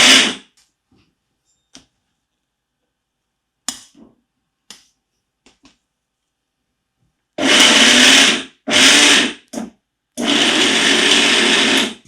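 After a few scattered clicks and taps, a kitchen mixer grinder pulses peanuts and jaggery in four loud, close bursts, three short and one longer.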